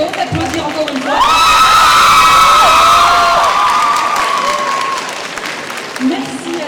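An audience at a cosplay contest during the Fesimanga 2025 festival bursts into loud applause mixed with cheering and whoops. Bright shouted voices rise over the clapping for several seconds, then the noise eases off.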